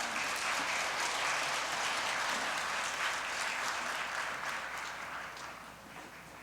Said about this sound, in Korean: 우리 나올 때 우리 심찬 환영의 박수 부탁드리겠습니다.